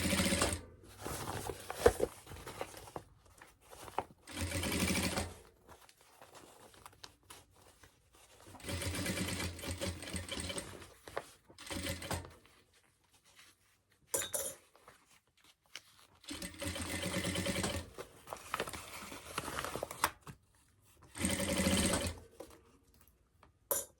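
A sewing machine stitches waterproof canvas rifle barrel dust covers, running in several separate bursts of rapid mechanical whirring, each a few seconds long, with quiet pauses between them, fairly faint and close.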